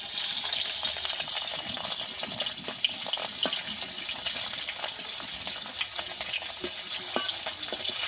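Fish sizzles loudly in hot oil in a wok, a dense, hissing crackle with scattered pops that stays strong and steady from start to finish.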